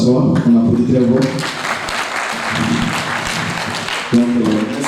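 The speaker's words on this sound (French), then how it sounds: "On applaudit très fort." An audience claps loudly for several seconds in a steady wash of applause, with a voice speaking over the start and end.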